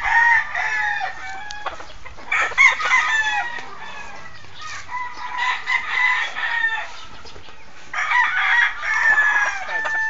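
A young gamecock stag crowing and clucking close by in repeated bursts, with brief quiet gaps between calls.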